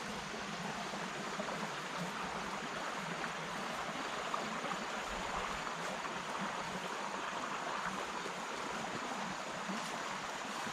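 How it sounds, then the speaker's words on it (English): A brisk mountain stream on a Blue Ridge Mountains property in Virginia rushes over large white boulders, a steady, even wash of flowing water heard alone at moderate distance with no voices. "This little stream is something I really like on this property."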